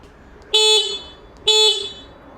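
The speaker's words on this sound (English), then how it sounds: "So it's mounted here, and this is how it sounds." Two short beeps from a Pidzoom FH60 electronic finger horn on an electric unicycle, evenly spaced, loud and close, with a bright buzzy tone and quiet gaps between.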